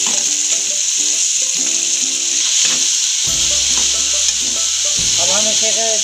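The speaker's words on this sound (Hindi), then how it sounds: "अब हम इसे अच्छे से भूनेंगे।" Capsicum and cabbage stir-fry for street-style veg chowmein, with a constant loud sizzle and repeated scraping and tossing strokes of the spatula, plus a few low thuds.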